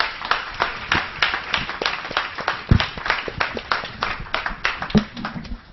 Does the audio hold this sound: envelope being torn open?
no